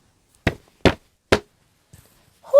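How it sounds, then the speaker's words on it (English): The wolf raps three sharp, evenly spaced knocks on Grandmother's wooden door; a short quiet pause follows before a voice begins at the very end. "He knocked on the door."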